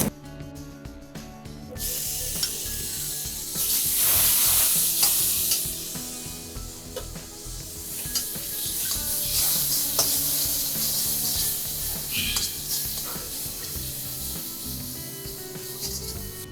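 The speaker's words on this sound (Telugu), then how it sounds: "కానీ పొడి మట్టుకే మీరు బాగా వేయిస్తున్నారు." Spice powder frying in a pan for Nellore fish curry: a steady sizzle with scraping and stirring strokes against the pan, close and continuous, no talk.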